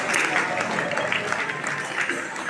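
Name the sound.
audience clapping at event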